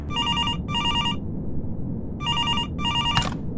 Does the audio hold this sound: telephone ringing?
yes